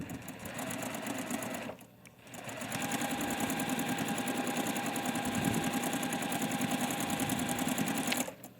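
A sewing machine stitches a quilt block in a rapid, steady mechanical whir. It pauses briefly near the start, then runs continuously and close until a final stop.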